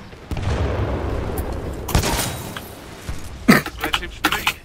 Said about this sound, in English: The amount of explosions just scarred me.